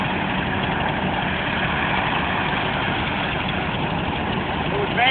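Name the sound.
1947 tractor engine running after repair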